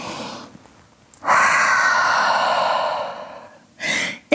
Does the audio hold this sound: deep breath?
yes